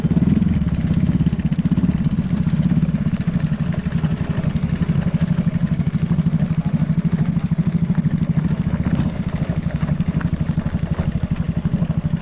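Motorcycles ride past on a road toward Tagong Paraiso in Pagbilao, Quezon, on a busy weekend, their engines a steady mid-pitched clattering drone that holds loud and close throughout with no talk over it.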